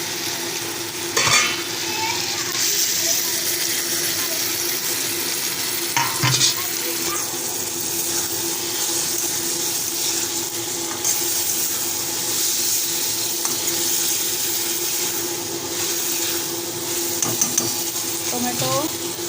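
Tomatoes fry in an oiled pan while being stirred, a steady close sizzle with occasional scraping and clinking of the spoon against the pan, running continuously at moderate loudness.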